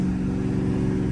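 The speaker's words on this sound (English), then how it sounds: "This car is so loud, bro." A deep, loud catless Dodge Charger Scat Pack 392 V8 engine drones steadily up close, its low rumbling tone holding throughout with no talking over it.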